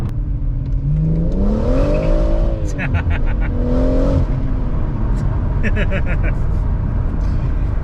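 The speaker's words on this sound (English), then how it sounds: "such a silky engine" A BMW M140i's smooth six-cylinder engine climbs through revs under acceleration, rising tonal sweeps over a steady road rumble from inside the car, with someone talking throughout.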